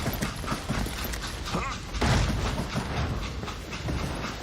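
Train in the Call of Juarez: Gunslinger game, a steady rumbling rattle of rolling rail cars with clanks and creaks, a louder burst midway, continuous for several seconds.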